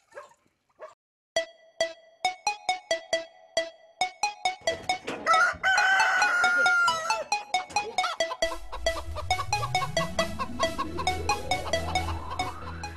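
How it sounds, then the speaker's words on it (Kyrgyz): Hens clucking and a rooster crowing at a small village poultry farm in Osh, with repeated sharp bird calls close by, a longer crow in the middle and a dog barking among the flock. "Тооктордон сырткары Зинакан эненин үндүктөрү да бар."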